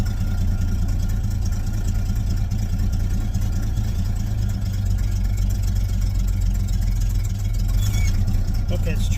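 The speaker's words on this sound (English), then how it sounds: "It's trying to move, but I got the parking brake on." A 1972 Chevy engine runs with a loud, steady low rumble as the car strains against its engaged parking brake, a continuous drone throughout.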